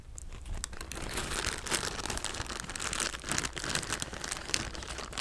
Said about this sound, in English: Got a banana peel.